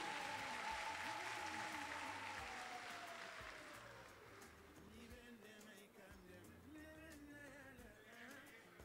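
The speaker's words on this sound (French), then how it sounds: "On peut applaudir, s'il vous plaît." An audience applauds at an award ceremony during prize presentations at a closing ceremony, a dense sustained clapping that gradually thins and softens, with a voice speaking faintly over it.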